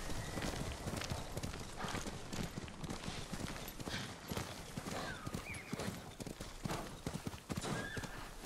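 Hooves clip-clop in a fast gallop as a horse runs in the video game Ghost of Tsushima, with a whinny amid a busy, continuous mix of game ambience at moderate loudness.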